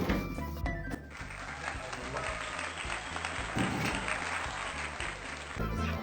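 A studio audience claps to welcome a guest onto the stage, a moderate burst of applause blended with music and a few voices underneath.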